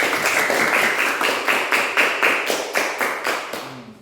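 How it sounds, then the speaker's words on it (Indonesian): Classroom rhythmic group clapping for a presenting student group, a loud, close, evenly spaced series of about a dozen unison claps, ending with a brief voice. "Tepuk tangan untuk kelompok 1 dulu."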